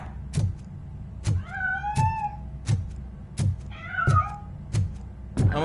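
A cat meows twice, drawn-out rising and falling calls, over a steady series of sharp knocking thumps, close and clear with no voices.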